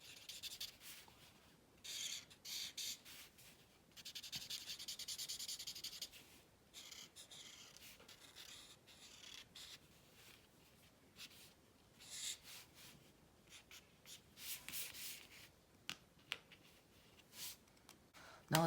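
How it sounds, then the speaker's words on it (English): Coloured pencil shading darker shadows on paper for a Christmas landscape pop-up card, a soft, faint scratchy rubbing in bursts of strokes with brief pauses, close and quiet. "Let's draw some darker shadowings."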